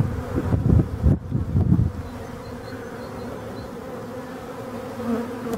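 Honeybees buzzing at a hive in spring, some returning with white pollen on their legs; a steady, close drone with a few louder passes near the start, no talk over it.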